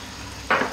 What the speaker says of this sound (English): We're now going to add in that cup of cream.